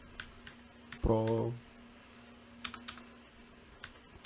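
Sparse, soft keyboard clicks and keystrokes from a computer, close and quiet, with a brief voiced sound partway through.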